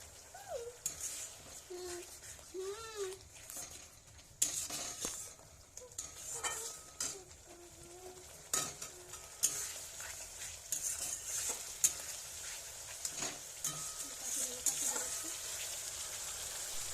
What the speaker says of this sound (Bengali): ভালো করে নেড়ে চেড়ে সেই মশলাটাকে ভেজে নেব